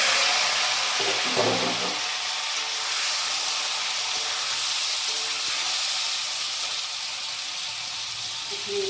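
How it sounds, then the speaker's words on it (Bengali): Elephant foot yam and potato fry in hot oil in a pan with black cumin, giving a steady, even sizzle and hiss that runs close and loud throughout with no pauses. "এখন দিয়ে দেবো ওল আলু ভাজিয়ে রাখা।"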